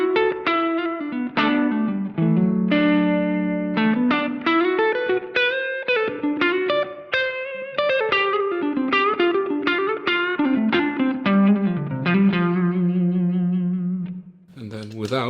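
Electric guitar run through a GFI Enieqma EQ pedal with a boost in the mids near 1.6 kHz and a little extra low end, playing a busy melodic riff of fast picked notes and bends, loud and steady with echo trails.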